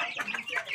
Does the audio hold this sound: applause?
no